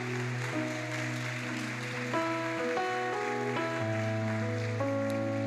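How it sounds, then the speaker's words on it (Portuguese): A church congregation applauds at a worship service, a steady wash of clapping sitting beneath sustained keyboard chords that shift every second or so, the clapping blended and fairly even rather than standing out. "Aplauda, aplauda, aplauda."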